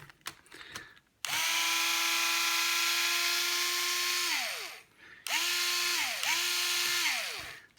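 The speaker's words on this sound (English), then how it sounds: "like this Hitachi screwdriver quite a bit" A Hitachi cordless screwdriver with torque control whirs in one long run of about three seconds, winding down, then in two short bursts. Each burst is loud and close and starts and stops sharply.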